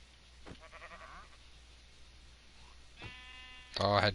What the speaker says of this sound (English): Let's catch this last sheep here.